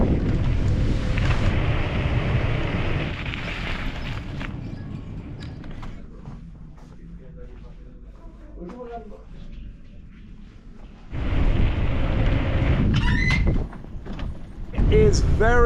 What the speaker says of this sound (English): It is very, very windy today. It's gusting to about 35 knots